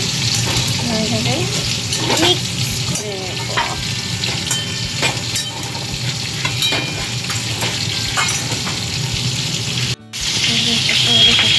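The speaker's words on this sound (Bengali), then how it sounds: "এদিকে হচ্ছে মাছ ভাজা" Fish frying in a pan gives a steady sizzle and crackle, with occasional stirring and a brief break near the end, while a voice speaks briefly.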